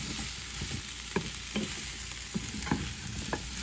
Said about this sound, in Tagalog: igigisa ko lang siya